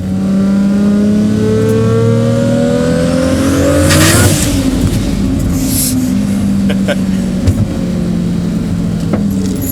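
A 750 hp big-turbo 2JZ Toyota Supra pulls at quarter throttle on a mountain road, its pitch rising steadily before easing off and settling into a steady drone, close and loud.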